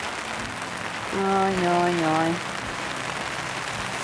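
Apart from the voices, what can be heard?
rain falling on a tent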